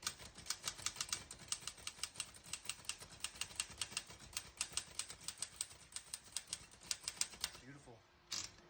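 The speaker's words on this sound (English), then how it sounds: "I'll type a sentence on this next line." Keys strike in a quick, uneven run on an all-metal 1948 Remington De Luxe portable typewriter, each sharp clack close and crisp, ending with a short carriage movement.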